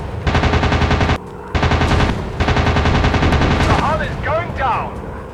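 Warplanes in an aerial combat video game unleash loud, close machine-gun fire in long rattling bursts separated by brief gaps, followed by fainter whooshing effects near the end.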